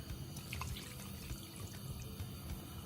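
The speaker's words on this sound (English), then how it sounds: "Now I'm adding water" Water running and splashing steadily into a cooking pot of gizzard and vegetables, a continuous close liquid wash with faint drips and no talking.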